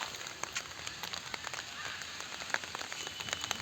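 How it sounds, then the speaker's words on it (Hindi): Heavy rain patters on a surface, a dense hiss of drops with a few louder splashes, no voices. "अभी इतनी ज़्यादा तेज़ बारिश हो रही है, देख सकते हैं आप।"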